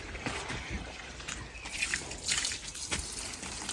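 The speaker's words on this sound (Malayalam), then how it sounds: "ചെടിക്ക് വെള്ളം ഒഴിക്കുക." Water poured from a can or hose onto a garden plant in a German home garden, a steady soft trickling and splashing that swells and fades over a few seconds, close by with no talk.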